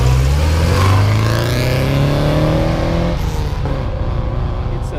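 A restored right-hand-drive 1967 MGB GT with a TR7 five-speed clutch accelerates, its engine note climbing steadily and loudly, then settling into a rougher, steady drone as the car pulls away.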